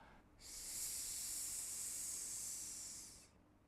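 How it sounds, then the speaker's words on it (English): A long, steady hissing exhale of the lung healing sound in an inner alchemy breathing practice, soft and close, rising after a brief pause and holding evenly for about three seconds before fading out. "The lung sound, let's do together."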